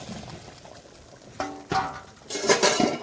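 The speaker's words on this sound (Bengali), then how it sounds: "এবারে এই ভেজে রাখা কাঁকরোল আর মাছগুলো দিয়ে দেবো ঝোলের মধ্যে" Fried teasel gourd pieces and fish dropped into a simmering curry, a steady low bubbling followed by a few close splashy thuds and a wet, sizzling rush as they hit the liquid.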